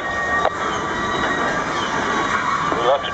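Freight train M338 rolls past close by at a road crossing, a steady loud rumble of wagons with wheels squealing at intervals.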